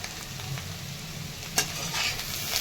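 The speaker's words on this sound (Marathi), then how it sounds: "आणि मिक्स करून घेते" Jeera aloo is stirred with fresh coriander in a hot pan, with soft sizzling and scraping stir strokes and one louder clack, close and without talk.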